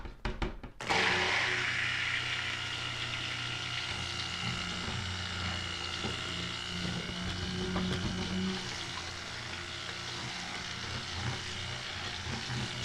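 A blender runs continuously at close range, whirring loudly and steadily as it mixes honey into the oils for an oat milk and honey cold-process soap.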